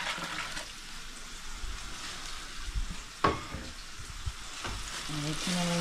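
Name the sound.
sautéing kohlrabi curry spice mix in a pan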